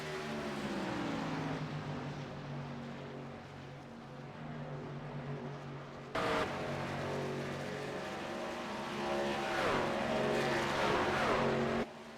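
Racing trucks in a video game roar down the back straightaway at a speedway, engines droning steadily at high revs with a sudden shift in tone midway as another truck sweeps past, no talk.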